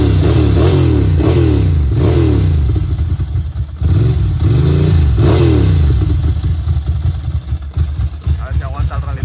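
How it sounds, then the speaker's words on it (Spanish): A Ducati Monster 900 motorcycle engine with MIVV exhausts revs hard several times in rising, falling bursts, loud and close, then drops back toward a rough idle. "Bueno, le doy un acelerón."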